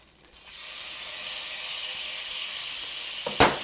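Shrimp hit hot fat, sesame oil among two fats, in a stir-fry pan with peppers, bursting into a steady, close sizzle after a quiet start, with a brief clatter near the end.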